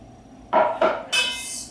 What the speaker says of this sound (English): stir it, get everything mixed well